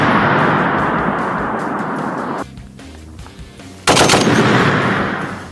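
A Browning M2 heavy machine gun fires in rapid, loud sustained bursts, stopping for about a second and a half before another intense burst, close and without talking.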